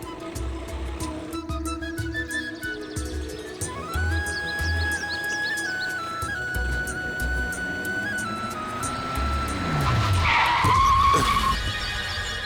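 A car is driven with tires skidding and squealing, engine droning steadily under music, the screech rising louder near the end.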